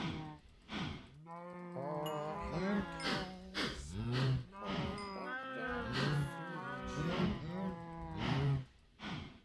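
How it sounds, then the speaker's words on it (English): Cows mooing in the video game Minecraft, several overlapping low drawn-out moos repeating throughout, close and fairly loud with no talk. "Feed the cows."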